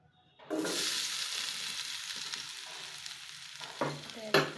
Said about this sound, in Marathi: आता आपण यामध्ये गोबी फ्राय करून घेऊयात. तेल चांगलं गरम झालेलं आहे.